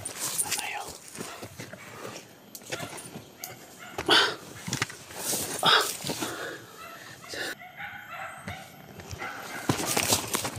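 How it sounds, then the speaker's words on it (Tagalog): A dog barks a few times nearby, in loud separate woofs amid outdoor commotion, with people talking throughout. "Yung may aso tumatahon."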